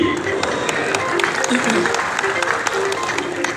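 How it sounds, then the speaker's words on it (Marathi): Applause rises from a crowd at a public birthday celebration and charity event, a steady dense patter of many hands clapping throughout, with a voice over a loudspeaker carrying on above it. "टाळ्यांचा गजर"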